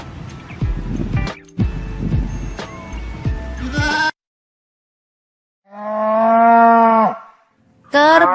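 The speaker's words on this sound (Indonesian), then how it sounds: "Kerbau." After a stretch of busy animal noises and a pause, a single deep, drawn-out low call of a water buffalo lowing, then more sounds.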